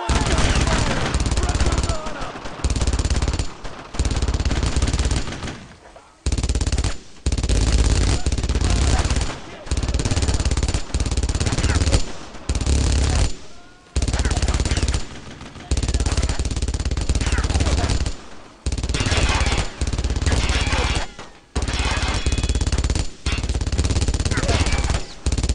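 Sustained machine-gun and rifle fire rattles in loud bursts broken by short pauses throughout a World War II battle in the video game Brothers in Arms: Road to Hill 30.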